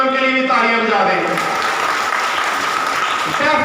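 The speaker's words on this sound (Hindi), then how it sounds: "उनके लिए भी तालियां बजा दें" Dense, loud clapping from a crowd at a 14 August Independence Day gathering, applauding special education centre children, continuous for several seconds while a voice speaks over the opening and returns near the end.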